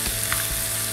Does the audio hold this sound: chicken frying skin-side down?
yes